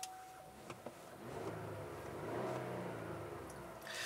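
The 3.6-liter gasoline V6 of a 2018 Chevrolet Colorado ZR2 hums steadily at low pitch, quiet and even, with a faint rise in the middle; no voices.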